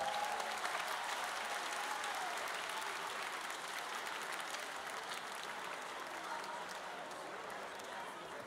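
A large crowd applauds at a high school graduation ball in Maribor, a dense continuous roar of clapping that holds at an even level throughout, heard from within the hall.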